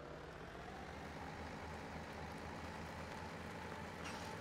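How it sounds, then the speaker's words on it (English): A small tractor engine idles steadily in Farming Simulator 17, a low, even rumble that holds constant and fairly quiet throughout with no change in pace. "Thinking about using this little tractor."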